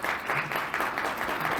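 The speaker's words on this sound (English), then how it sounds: "I see that was an applause" A panel audience at PAX gives a short burst of dense, steady clapping, moderately loud and without talk.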